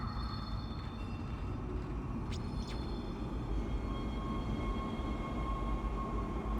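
A train car arriving in Dead Space, a steady low rumble with a faint mechanical hum and thin tonal whines, holding a constant level throughout.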